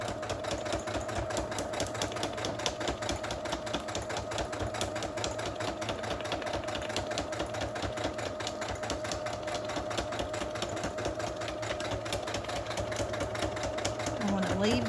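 A sewing machine stitches the spine of a handmade journal, humming with a rapid, steady mechanical chatter throughout, fairly close and even, while a person talks over it.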